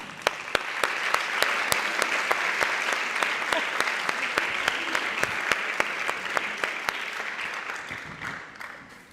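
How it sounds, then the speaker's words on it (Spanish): An audience at a round-table conference session gives a sustained round of applause, dense clapping that carries on steadily for several seconds before tapering off at the end. "Y le recibimos con un fuerte aplauso."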